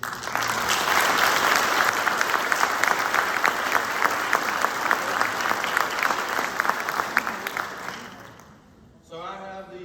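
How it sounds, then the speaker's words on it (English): A large audience at a 2023 agency awards ceremony breaks into loud, sustained applause for the Leadership Award, dense clapping holding steady for about eight seconds before tapering off, with a voice briefly emerging at the end. "let's give a round of applause for this year's"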